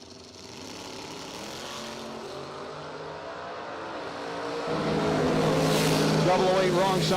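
Door slammer drag race cars, one a Camaro, idling loudly at the starting line and then launching into a swelling, roaring engine drone, with an announcer talking over it.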